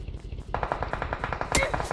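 Rapid automatic gunfire in a shooting video game, a close, evenly spaced string of shots with one sharper crack near the end, over a low rumbling background.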